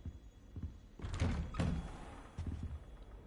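A locked door in the video game Hogwarts Legacy gives a few dull wooden thunks and knocks in quick succession, heard close with nothing else around them.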